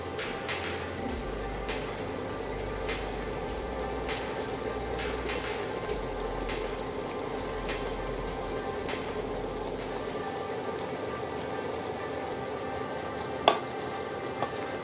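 Malabar spinach (pui shak) stir-fries in a pan, a steady soft sizzle with occasional scraping stirs and a single sharper clink near the end.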